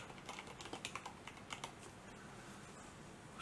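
Quick bursts of key clicks on a computer keyboard under Windows 11, a rapid run of light taps in the first half, then quieter, fairly close but soft, with no talking.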